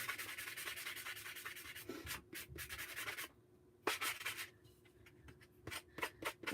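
Wood pieces for a tiered tray sanded by hand, close scratchy rasping in quick back-and-forth strokes, with a short quiet gap before the bursts resume irregularly.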